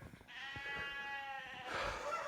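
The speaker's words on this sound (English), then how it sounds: "The sheep are ready for their water" A sheep bleating once in deep snow, a single drawn-out wavering bleat close by, followed by a short rough second call against quiet surroundings.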